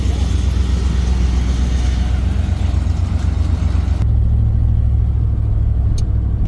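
A 1997 Ford running while being driven, its engine a steady low drone with road noise that drops slightly in pitch partway through as the transmission shifts, loud and close from inside the cabin.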